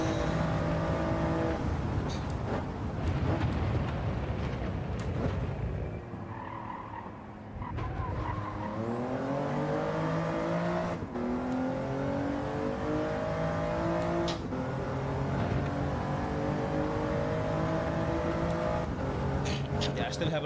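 A racing car in Gran Turismo, a very understeery machine, revs steadily throughout, its engine pitch climbing and sliding in long harmonic sweeps with tire skid noise, loud and close, with a brief dip in the middle.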